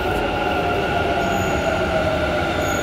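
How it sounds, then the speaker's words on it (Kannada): A Bengaluru metro train runs with a steady, loud rumble and droning hum, a continuous rolling roar throughout with faint wheel squeal tones. "ಇದೇ ನೋಡಿ ಮೆಟ್ರೋ."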